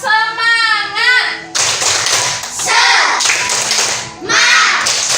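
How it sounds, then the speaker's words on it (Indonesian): Primary school children in a combined-grade classroom perform a patterned spirit clap, rhythmic bursts of clapping in groups broken by short gaps. A voice speaks at the start and children's voices join between the clap sequences. "Lanjut tepuk semangat."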